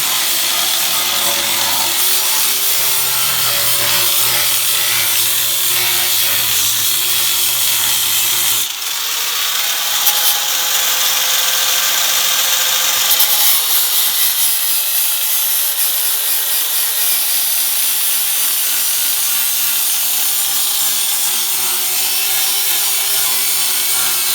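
A power grinder cleans up welded patches on a Dodge Ram rocker panel, a loud continuous abrasive whine whose pitch shifts as the load changes, with a short break midway before it resumes.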